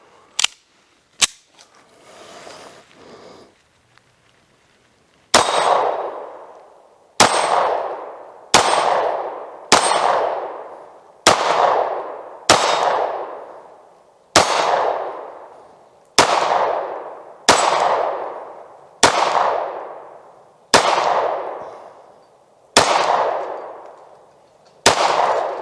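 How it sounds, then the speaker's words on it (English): Military Arms Corp MAC9 2011 pistol fired in a string of about a dozen sharp, loud shots at uneven intervals, each ringing briefly, after a few scattered clicks and handling noises. "The main thing is will it actually shoot like it's supposed to?"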